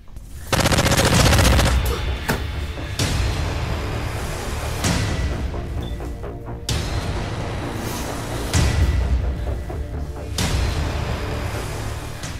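Rapid bursts of gunfire ring out close and loud, with a long rattling volley at the start, then several further sharp shots and short strings of fire separated by brief gaps, over a steady noisy background.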